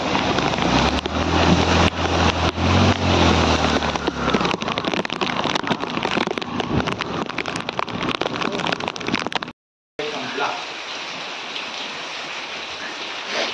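Heavy rain pours down in a village, a loud, steady broadband hiss of drops pounding surfaces, with a deep rumble in the first few seconds and a brief dropout just before ten seconds, after which the downpour continues slightly thinner.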